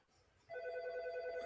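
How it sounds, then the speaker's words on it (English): A telephone bell rings in a clear sustained burst that starts abruptly after a quiet moment and carries on to the end, fairly loud and close with no talking over it. "And Andrew, answer that phone."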